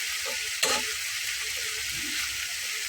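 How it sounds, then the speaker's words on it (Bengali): A spice paste fries in oil in a home kitchen, giving a soft, steady sizzle with one brief clink near the start. "মশলাটার উপরে দেখুন তেল উঠে আসছে তার মানে কিন্তু মশলাটা খুব ভালোভাবে কষা হয়ে গেছে"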